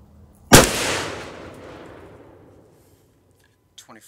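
A single loud rifle shot from a 350 Legend firing a Sierra 125-grain JHP over Winchester 296 powder cracks close by, with a long echoing decay into quiet and a brief voice at the end.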